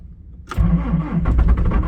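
John Deere 210G excavator with a low battery cranking and struggling to start in cold weather: a sudden mechanical engagement followed by a laboring, uneven churning that pulses without catching, close and loud.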